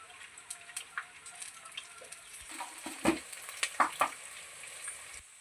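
Curry leaves, peanuts and split green and dried red chillies hit hot oil for mango pulihora, giving a soft, close sizzle broken by scattered sharp crackles and pops that grow busier toward the middle.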